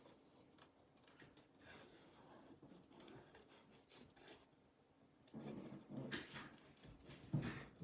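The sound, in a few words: dog whimpering and panting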